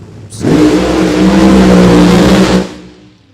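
A nitro drag racing car roars down the dragstrip at Mo-Kan Dragway, a loud sustained engine blast with a rising, revving tone that holds for about two seconds, then cuts off and fades away, with no talk.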